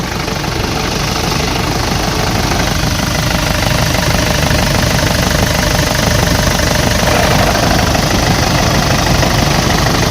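The engine of a 2006 Nissan Frontier King Cab pickup runs steadily in its open engine bay, a loud, constant droning idle heard close up for the whole stretch with no talk.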